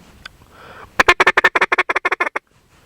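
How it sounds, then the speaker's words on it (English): A duck call is blown in a feeding chuckle: about fourteen quick, evenly spaced clucking notes in a fast rhythmic run, loud and close, with near silence before and after. "A feeding chuckle is made simply by going ticka ticka ticka ticka or tucka tucka chucka chucka"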